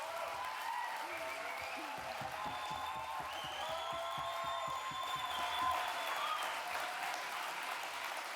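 An audience at an Indigenous Liberation Day keynote speech breaks into warm, sustained applause, a dense patter of many hands filling the room at a steady level, with a voice faintly speaking beneath.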